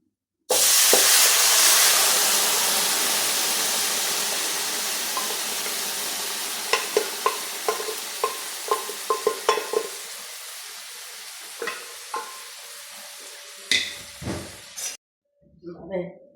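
Pre-cooked beef is tipped into a hot pan with fried chillies and stirred, giving a loud initial sizzle that slowly fades under repeated scraping and clinking stirs, with a brief silence near the end.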